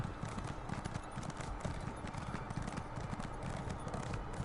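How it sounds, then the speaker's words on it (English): A horse's hooves clip-clop in a steady galloping rhythm in the video game Elder Scrolls Online, close and continuous, with faint voice murmurs underneath. "And we've got our horse."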